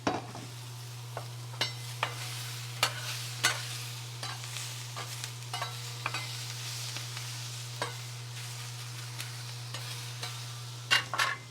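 Wagyu steak frying in oil in a hot pan, with a steady low hum underneath and scattered sharp crackles and pops.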